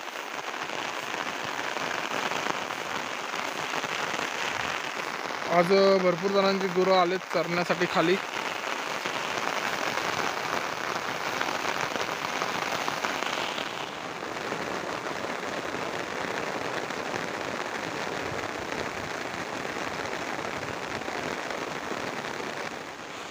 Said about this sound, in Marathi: तर मग पाऊस किती पडतोय ते बघू शकताय